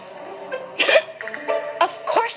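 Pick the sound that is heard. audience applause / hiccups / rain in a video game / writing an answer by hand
hiccups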